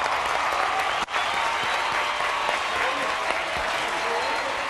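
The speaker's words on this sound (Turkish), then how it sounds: "Adıyamanlılara alkış, Adıyamanlılara selam olsun" Steady applause from a sizable crowd at a live comedy show in Turkey fills the clip, dense and continuous, with one brief dip near the start.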